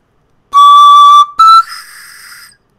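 Panflute played with half tonguing, two loud, close, breathy whistle-like notes with a quick break between them, then a softer, airier tone trailing off.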